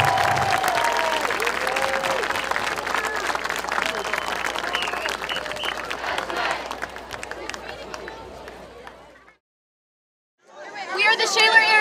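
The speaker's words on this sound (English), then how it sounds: "how about a nice round of applause for your 2024 Shaler Area Athletic Hall of Fame class" Crowd applause and cheering for the 2024 Shaler Area Athletic Hall of Fame class at a high school football game, broad sustained clapping with chatter underneath that fades out, a short silence, then a brief new burst of sound.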